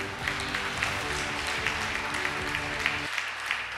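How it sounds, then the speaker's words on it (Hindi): A church congregation claps together during a sermon, a steady wash of applause from many people under a low sustained musical tone that cuts out near the end. "जोरदार ताली"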